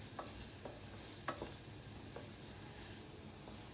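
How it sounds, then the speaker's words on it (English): Chopped onions and four cloves of chopped garlic sauté quietly in a pan, a soft continuous sizzle with a few scattered scrapes and taps of a stirring spoon, close but low in level. "Stir it nicely until the onions are translucent"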